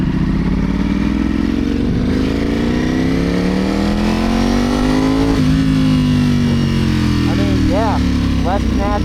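A 2025 Ducati Panigale V4 S motorcycle accelerates hard off the line, its engine climbing loudly through the revs, dipping at a gear change, then pulling again, with a rider talking faintly over it.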